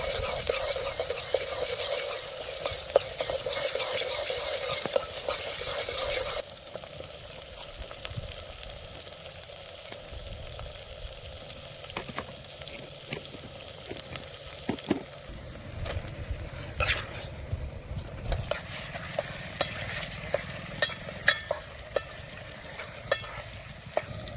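Ginger-garlic paste frying in a pan while a spoon stirs it, a steady close sizzle with scraping strokes that runs louder at first, then settles lower with intermittent clicks and scrapes.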